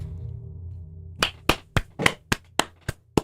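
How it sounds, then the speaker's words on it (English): Eight sharp, evenly spaced hand claps ring out one at a time after a low hum, each crisp and close, in a slow deliberate rhythm. "Clap. You can clap."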